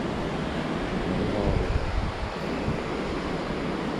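Steady rushing water of a river near a roadside station in Minakami, Gunma, a dense broadband wash with a low rumble that holds throughout, close and fairly loud with no voices over it.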